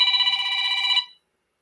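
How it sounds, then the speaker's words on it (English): A telephone rings with an incoming call: one bright, warbling electronic ring lasting about a second, then silence, loud and close with no voices. "Yep, that's her calling right now."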